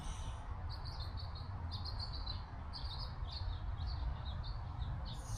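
Small birds chirp outdoors in repeated short bursts of high tweets over a low steady rumble of ambient noise, fairly faint and distant, no talking.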